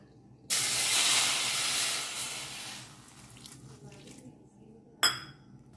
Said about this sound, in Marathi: तातूंत घालता आनी तातूंत घालता मिठाचें उदीक